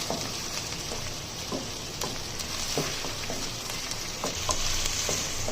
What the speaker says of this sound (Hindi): फ्राई करेंगे तकरीबन 1 से 2 मिनट तक। इसे अदरक लहसुन और प्याज के साथ भूनेंगे गोश्त को।